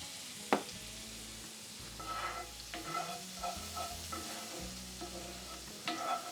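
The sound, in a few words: egg roll vegetable filling sizzling in hot skillet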